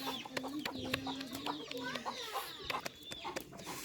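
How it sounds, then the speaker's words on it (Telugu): Several chickens cluck nearby in short, busy calls, mixed with sharp tapping clicks and a quiet background hum. "ఈ రొట్టె చేస్తుంటే కోళ్ళు మా దీని చుట్టే తిరుగుతున్నాయి"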